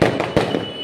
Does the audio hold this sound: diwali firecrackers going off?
yes